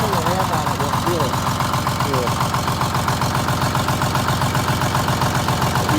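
Detroit Diesel 6-71 engine in a GM 4104 bus idles with a misfire, a loud, steady close-up rumble running without a break, with a few faint brief sounds above it.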